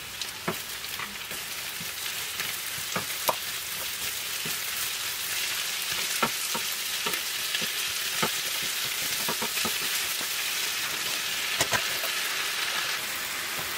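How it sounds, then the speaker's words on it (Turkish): Continuous crackling sizzle of chopped spinach sautéing in a hot pan without added water, with scattered louder pops and stirring clicks, steady throughout and fairly close. "Üzerine doğradığım ıspanakları alarak sulandırmadan ıspanakları kavuruyorum."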